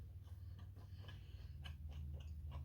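Close, quiet crunching bites of sausage cheese puffs repeat in an irregular rhythm over a low steady hum, with no voices.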